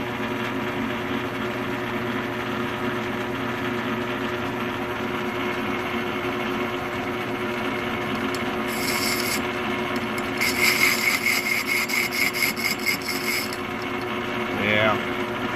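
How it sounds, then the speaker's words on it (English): A metal lathe boring out a steel plate, running as a steady droning mechanical whir with a faint high whine, joined midway by a grating rasp from the cut, constant and fairly loud. "I'm boring that steel plate out"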